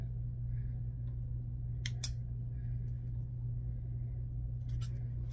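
Scissors snip a false eyelash strip in two or three short, crisp cuts close to the mic, over a steady low background hum.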